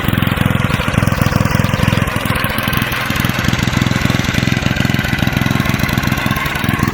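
An old engine with a freshly unclogged muffler runs steadily at idle, close and loud, with a dense, even rapid chugging pulse and no voices over it.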